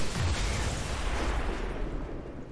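Explosion in a video game: a deep, rumbling blast already under way at the start, fading slowly into a dull roar and settling toward the end.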